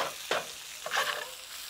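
Sausages fry and brown in a pan with a soft, faint sizzle, briefly broken by two quick scraping stirs.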